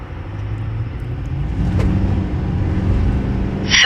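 A 2024 GMC Sierra 3500 pickup with the Gen 2 L5P diesel and 10-speed transmission accelerates hard toward 60, its deep engine rumble building steadily from inside the cab, with a gear shift midway.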